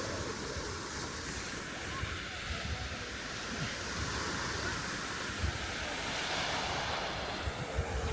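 Baltic Sea surf rolling onto the Zelenogradsk coastline, a continuous broadband wash of breaking waves with wind buffeting the microphone throughout, steady and fairly loud.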